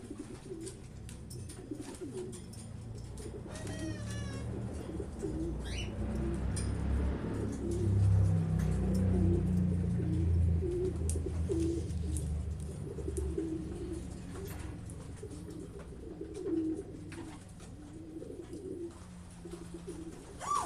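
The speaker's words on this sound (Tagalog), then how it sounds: "may dumating tayong isang ibon" Racing pigeons arriving at the loft after a 121-mile race from Williams, California, cooing in soft, low, repeated phrases with a few brief chirps, faint and close against a quiet outdoor background with distant traffic.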